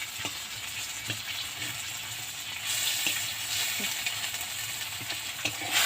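A few dry red chillies fry in oil in a pan, giving a continuous close hiss and sizzle with a few light scraping knocks, and it gets slightly louder near the end.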